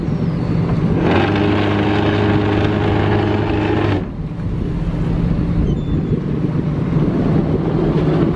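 Fishing boat heading back into harbour at Sandgerði in November, a loud steady engine drone with a strong tonal hum that cuts off partway, leaving gusty wind buffeting the microphone and a low rumble.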